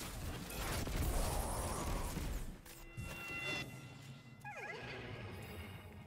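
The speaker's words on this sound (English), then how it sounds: "The horse is pleased and summons more opponents." A horse neighs in the video game Destiny 2, a brief whinny arriving late amid busy game noise and effects that fill the first half of the scene.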